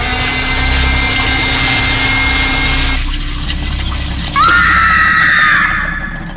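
After several seconds of harsh rushing noise, a woman's high-pitched scream rises sharply and holds for about a second before fading.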